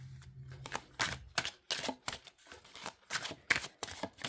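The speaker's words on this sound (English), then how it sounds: "Oh, such a smooth shuffle." Rapid crisp riffling and clicking of a Lenormand oracle card deck being shuffled, a few quick bursts of snapping cards close by, with no talking.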